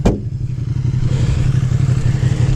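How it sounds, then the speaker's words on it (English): A motorcycle comes up alongside a 2022 Mazda MX-5 Miata Touring on the road, heard from inside the car as a loud, steady low engine drone mixed with road rumble after a brief knock at the start. "as this motorcycle comes up to us"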